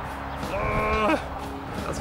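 Holstein dairy cow on a dairy farm letting out one drawn-out moo that rises and then breaks off, fairly close over low background noise.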